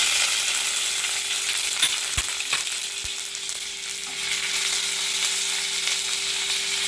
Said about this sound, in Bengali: কালো জিরেটা ফোড়ন হয়ে গেছে, এবার আমি পেঁয়াজ কুচিটা দিয়ে দেব।